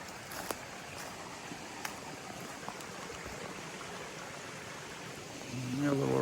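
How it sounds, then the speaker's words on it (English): A creek flows through a wooded garden property near a small waterfall, making a soft, steady hiss of running water with a few faint clicks, and a voice comes in briefly near the end. "So here's our creek."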